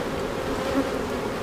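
Honeybees buzz steadily around an open beehive on a farm where the queen has mated, a dense, continuous drone holding even loudness throughout.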